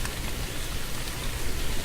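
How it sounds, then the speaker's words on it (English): Steady rain in a video game, a dense, even hiss of falling drops that fills the whole stretch at moderate volume, with no voices over it. "Ew, it's raining."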